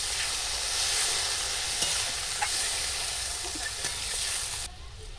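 Water goes into spices frying in a pan for shol fish kalia, producing a continuous loud sizzle and hiss with a few sharp clicks, easing slightly near the end; no speech.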